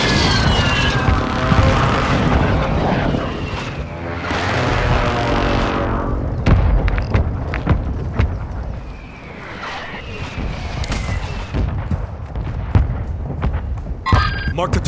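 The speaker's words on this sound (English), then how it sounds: "Our mortar strike is inbound." A mortar strike in Call of Duty Warzone 2 with repeated heavy explosions and sharp cracks landing amid gunfire and aircraft noise, loud and close, while voices speak over the battle.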